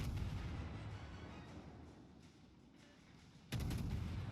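Naval gunfire from a German Z-52 destroyer in the World of Warships game, a dense continuous roar of booming shots with a sharp louder salvo near the end.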